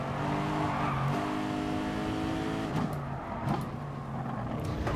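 Race cars in Gran Turismo Sport with engines droning and revving, then a brief bump of contact and a tire scrub as the engine note shifts, heard close and steady without talk.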